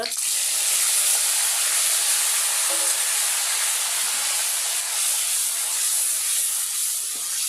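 Spices sizzle in a hot cooking pan with a dense, steady hiss that holds loud and unbroken throughout, close by and with no talking.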